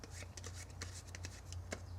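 Playing cards shuffled by hand during a card-control magic tutorial, a quick series of soft riffling snaps and rubs close to the microphone over a low background hum.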